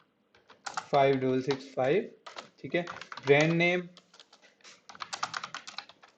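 Quick, light keystrokes on a computer keyboard patter in bursts around and after someone speaking Hindi, with the clicks growing denser toward the end.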